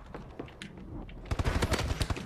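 Gunfire in a first-person shooter video game: a few scattered shots early, then a rapid automatic burst of close, loud reports in the second half, with faint talk underneath.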